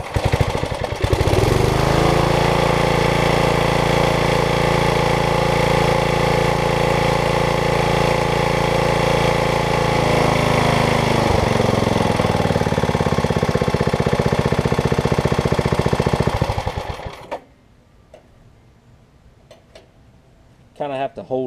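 A 5hp Briggs engine on a Craftsman tiller runs at a loud, steady chugging pace for about seventeen seconds, then shuts down and leaves near silence, with brief speech heard alongside.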